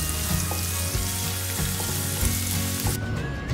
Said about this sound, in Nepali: अब यो प्याजलाई चाहिँ हामीले गोल्डन ब्राउन भइजेलसम्म मज्जाले फ्राई गरौं